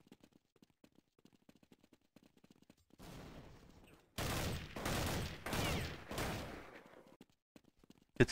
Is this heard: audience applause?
no